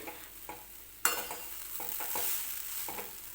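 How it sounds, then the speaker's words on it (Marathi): Grated coconut is stirred in ghee in a kadhai for modak filling, giving a soft, continuous sizzle with repeated scraping strokes and a sharp clatter of the spoon near the start. "सुरुवातीला कढईमध्ये ज्यावेळेस खोबरं टाकलं त्यावेळेस भरपूर दिसत होतं पण जसं ते तुपामध्ये आपण मिक्स करतोय"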